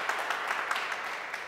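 Hall audience clapping for a spiritual speaker at a gathering, a soft, steady patter of many hands heard from a distance, with no voices over it.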